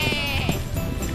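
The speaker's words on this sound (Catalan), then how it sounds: "Ovelles, compte, ovelles!" Cartoon sheep bleat, a short burst of several overlapping wavering bleats, close and fairly loud with a busy background.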